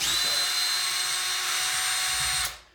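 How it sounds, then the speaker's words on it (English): A power drill whines steadily at high speed for a couple of seconds while dismantling a battery module of 26650 LiFePO4 cells, then winds down and stops. "So it does go quicker with a drill."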